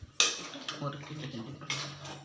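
Drumstick and brinjal pieces get stirred in a pot for tamarind curry, bringing a few clanks of a metal spoon against the vessel and wet shuffling of vegetables, close by, with a voice talking underneath.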